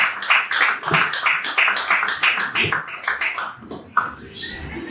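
Applause from the audience at an album launch ceremony: brisk, uneven clapping with sharp individual claps, close and fairly loud, fading slightly toward the end.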